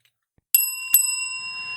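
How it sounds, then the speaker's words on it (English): A bicycle bell rung twice in quick succession, bright metallic dings that ring on with a long shimmering decay, close and clear with no talk over it. "got the bell again"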